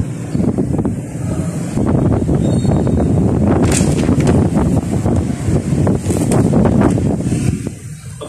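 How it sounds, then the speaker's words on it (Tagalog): Strong typhoon wind with heavy rain roars and buffets the microphone continuously and loudly, a dense rushing wash with no speech. "malakas itong ulan at hangin kasalukuyan kasi nananalasa yung bagyo ngayong buwan na ito"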